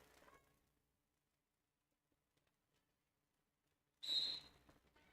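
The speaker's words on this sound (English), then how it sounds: "And the whistle blows" Sharp referee whistle blast starting a jam at a junior roller derby bout between the Renegades JRD Outlaws and Coyote Country, sounding loud and close after near-silence, with arena noise trailing behind it.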